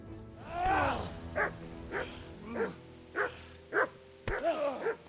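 A dog in Kingdom Come: Deliverance barks repeatedly at close range, about seven sharp woofs spaced roughly half a second apart, loud and clear with little else around.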